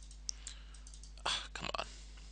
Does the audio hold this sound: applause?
no